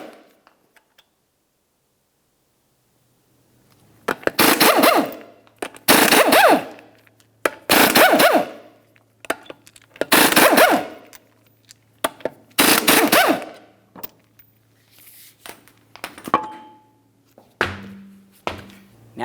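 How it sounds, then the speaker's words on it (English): An impact wrench zips off the six 19mm lug nuts from the wheel of a 2002-2009 Chevrolet Trailblazer, in loud rattling bursts of one to two seconds separated by short pauses, with softer clinks toward the end and no speech. "Remove your 6 19mm lug nuts and then the wheel."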